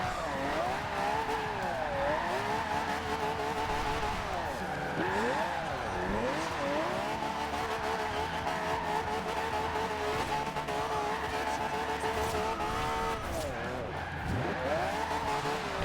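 A Toyota Supra drifts in the racing game Forza Horizon 2, its engine revving loud and steady with wavering pitch sweeps as the tires squeal through the corner, continuous throughout with a voice talking over it.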